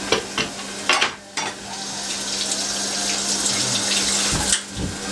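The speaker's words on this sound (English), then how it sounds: "Rinsing off the board." Tap water runs while a cutting board is rinsed, making a steady splashing flow with a few knocks and clatters, close by in a kitchen with no talking.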